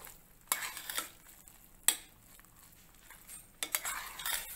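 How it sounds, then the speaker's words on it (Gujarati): Spoon scraping and clinking in a pot of freshly cooked fenugreek khichdi, three distinct bursts of stirring against the metal with quiet pauses between them, close and fairly soft. "આપણે સરસ મિક્સ કરી લેશું"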